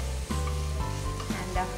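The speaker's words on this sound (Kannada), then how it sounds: "ಈರುಳ್ಳಿ ಗುಲಾಬಿ ಬಣ್ಣಕ್ಕೆ ಬರುವವರೆಗೆ ಅದನ್ನು ಹುರಿಬೇಕು." Minced onion frying with urad dal in a pan for upma makes a loud, steady sizzle with a few crackles and stirring scrapes, close and continuous with no talk.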